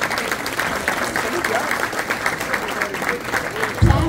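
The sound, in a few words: applause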